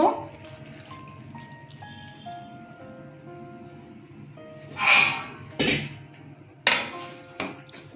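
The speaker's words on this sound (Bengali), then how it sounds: "জল দিয়ে দেব" Water poured into a pot of boiled kochu shak with salt and turmeric, heard as a few splashy pouring bursts and drips after some clinks, with no speech.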